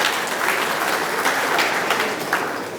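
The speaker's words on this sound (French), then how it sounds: "Et je vous demande très fort de l'applaudir," Audience applause for Fatma Samoura at a FIFA World Cup Trophy Tour 2022 event in Dakar: dense, steady clapping from a sizeable crowd that keeps up for the full stretch with no talk over it.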